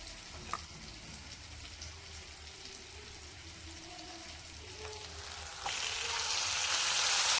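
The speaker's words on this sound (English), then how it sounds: "Now we can add the boiled cabbage into the pan." Boiled cabbage frying in a pan with onion, chili and salt, a soft continuous sizzle that grows louder and brighter toward the end, nearby, with no talking.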